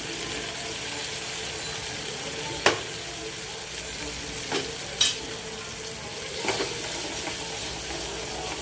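Salt, turmeric, coriander-cumin powder and red chili fry in a pan for moong dal khichdi, a steady soft sizzle broken by a few sharp scrapes of a spoon stirring.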